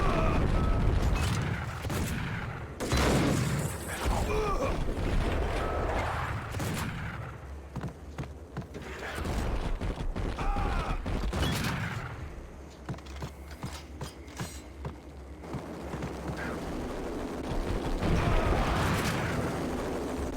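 A full-auto shotgun in Max Payne firing repeated heavy blasts in rapid bursts, close and loud, mixed with game effects and clatter.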